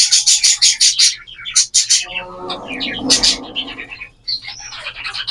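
Golden finches chirp loudly and rapidly nearby in quick bursts of bright, high tweets, with a brief lower fluttering noise in the middle.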